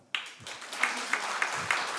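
Audience applause after a talk on a nonprofit stage, a dense crackle of clapping that starts abruptly and holds steady, with a few sharper claps standing out at regular intervals.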